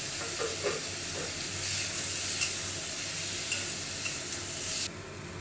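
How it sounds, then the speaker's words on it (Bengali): Bombay duck fish sizzling in a pan of spice paste with vegetables, a steady close frying hiss with occasional stirring scrapes, stopping abruptly near the end. "মশলাটা কষানো হয়ে গেছে আমি এবার জল ঝরিয়ে রাখা মাছটা দিয়ে দিয়েছি"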